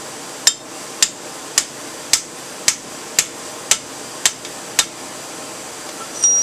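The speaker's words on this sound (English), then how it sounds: "I take my hammer, I line this up right in the slot" Hammer striking a chisel lined up in a slot to split heated metal: about nine sharp, evenly spaced metallic blows, each ringing briefly, close and loud, with no talking.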